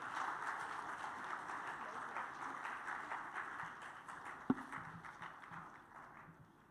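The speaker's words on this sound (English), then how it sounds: "Can we have a good round of applause, please?" A faint, diffuse round of audience applause at a formal event fills the room evenly, a soft continuous patter with one sharp knock partway through, gradually fading toward the end.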